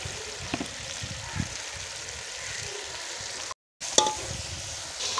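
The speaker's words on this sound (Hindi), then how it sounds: "अब हम डालेंगे इसमें अपना चिकन और इसे अच्छी तरह से भूनेंगे।" Chicken fries in a spiced masala, a steady close sizzle and crackle with occasional stirring scrapes, briefly cut out near the end, with no talking.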